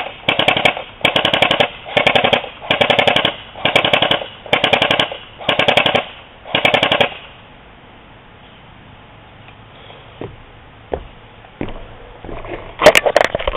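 Echo 1 E90 airsoft gun fires in full automatic, about seven rapid rattling bursts over roughly seven seconds, close and loud, followed by quieter handling noises and a few faint clicks.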